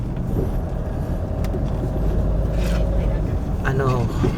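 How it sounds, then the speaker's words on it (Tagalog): Road traffic in Mandaue City, Cebu, heard as a steady rumble of passing cars, buses and trucks, with engine noise throughout. A person talks over the traffic. "heavy traffic talaga, kasi usually pag Mandawi City, heavy traffic talaga kahit saan."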